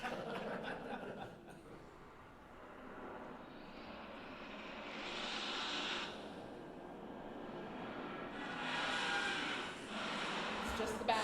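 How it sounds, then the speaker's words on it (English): An airplane engine drones and swells twice from the Batman (1989) trailer, played through a small phone speaker in a room. Voices and chuckles are heard over it. "plane flying around."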